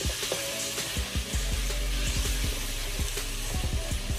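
Ground beef fries in a pan over medium heat on a stove, giving a steady close sizzle with scattered crackles and pops throughout.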